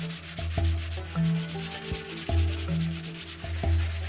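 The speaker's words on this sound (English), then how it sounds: "Once dry, I sanded off the excess until it was smooth." Sanding dried wood plaster smooth over a seam on a wooden workbench, with a steady scratchy rasp that swells and fades in repeated strokes, close up and with no talk.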